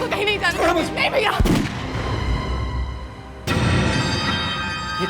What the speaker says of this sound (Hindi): गोली चलने की आवाज है, और ये आवाज यहाँ से आई है